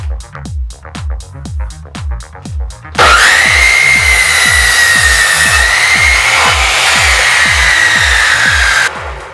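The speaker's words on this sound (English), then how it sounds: "so I have to adjust the miter saw" A miter saw cuts wood while a tripod is built for a video light: a run of rhythmic knocks, then the loud blade whine of one sustained cut, close up, ending abruptly.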